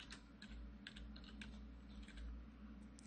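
Quiet, quick keystrokes on a computer keyboard as a short word is typed into a Photoshop text field, light clicks under a steady low hum with no talking.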